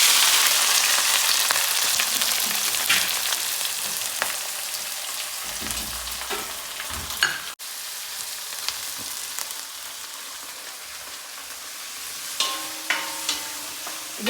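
Onion, green chilies, garlic and ginger sauté in a pan for Kerala-style beef liver fry, giving a continuous close sizzle and crackle with scattered sharp spatula scrapes and clicks, louder near the start, and no voices.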